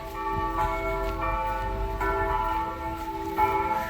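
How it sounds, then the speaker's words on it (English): Church bells ring repeatedly at a distance in Nantucket, Massachusetts, their overlapping tones sounding at a steady, moderate pace over a low outdoor background hum. "Got a couple churches up here, as you can hear."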